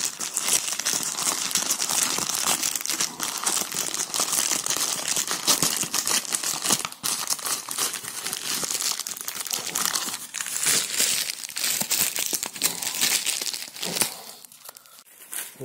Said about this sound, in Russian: сейчас мы посмотрим, как мы ее будем